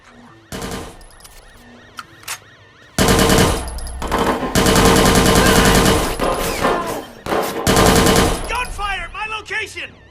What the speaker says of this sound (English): Gunfire at my location!